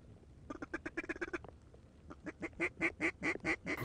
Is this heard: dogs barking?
no